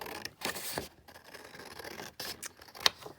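Scissors snip through a sheet of A4 paper in a few quick, close, crisp cuts with short pauses between them, and no voices.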